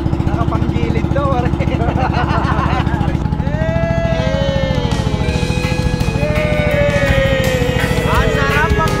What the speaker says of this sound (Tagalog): Ang sarap ang motor!